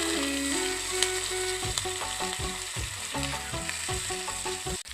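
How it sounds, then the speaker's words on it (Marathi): Green chilies and curry leaves hissing and crackling in hot oil for a tempering with cumin and asafoetida, a steady close sizzle with small stirring clatters throughout. "मग फोडणी अशी करून घ्यायची."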